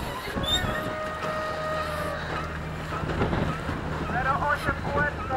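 A sailboat racing in a third-league club regatta carries a continuous rush of wind and water along the hull. Gusts buffet the microphone and a few faint whistling tones rise toward the end.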